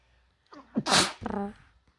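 A single loud sneeze, with a short inhaling buildup followed by a sharp explosive burst and a brief voiced trailing sound, close by.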